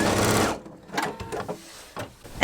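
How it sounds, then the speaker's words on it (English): A sewing machine stitches a seam joining large quilt pieces, running in a steady whir for about half a second, then short bursts of backstitching in place, close and fairly loud with no talk. "So I stitch 3 times in place as I get towards the end"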